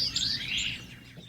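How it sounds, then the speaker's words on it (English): A white-crowned sparrow sings a bright, clear whistled phrase with a sliding note, heard a little way off over a soft outdoor background. "white-crowned sparrow begins to sing as the dogwoods bloom on its wintering range"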